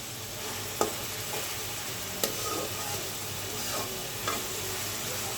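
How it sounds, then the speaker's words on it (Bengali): Onion and green chilies frying in oil, a steady close sizzle and crackle under a few sharp utensil clinks and scrapes against the pan, with nobody speaking. "পেঁয়াজ কাঁচা ঝাল তেলের উপর একটু ভাজি করে নিচ্ছি।"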